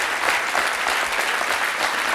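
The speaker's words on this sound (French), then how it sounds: "Oui, on peut l'applaudir." Audience applause in a French television studio, a steady dense wash of clapping that stays loud and even throughout, with no voices over it.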